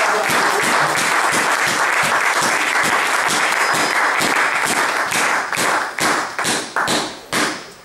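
A church congregation claps together in a dense, loud burst of applause that breaks into separate rhythmic claps and fades toward the end.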